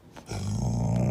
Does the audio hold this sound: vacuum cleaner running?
no